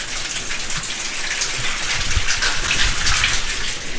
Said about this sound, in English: There's where the water's running down there.